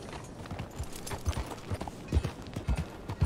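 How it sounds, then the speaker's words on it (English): Horse hooves clip-clop in Red Dead Redemption 2, a steady uneven trot of close, moderately loud thuds over faint background ambience. "Wow, fine horse there."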